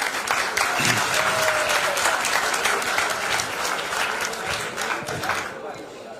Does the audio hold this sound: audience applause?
yes